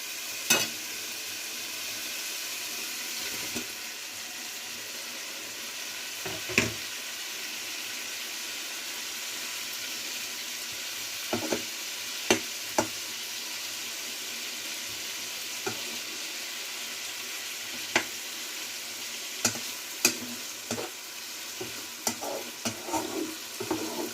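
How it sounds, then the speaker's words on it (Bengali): Pangas fish fries in oil and a well-cooked spice paste, a constant loud sizzle up close, broken by scattered sharp clicks and scrapes of a spatula stirring in the pan, with no talking. "মশলাটা আমার ভালোভাবে কষানো হয়ে গিয়েছে তেলটা উপরে উঠেছে এ পর্যায়ে হচ্ছে এখন আমি মাছটা ছেড়ে দেবো"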